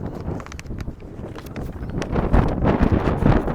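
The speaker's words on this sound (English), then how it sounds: "A little windy." Wind gusts buffeting a microphone outdoors, a steady low rumbling roar that swells louder in the second half, with no voices.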